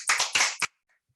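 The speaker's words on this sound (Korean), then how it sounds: "박수로 맞이해 주시기 바랍니다." Brief clapping welcoming a speaker at a policy forum, three short bursts of hands in close succession, fairly near, then quiet.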